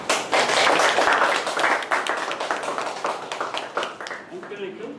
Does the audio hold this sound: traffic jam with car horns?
no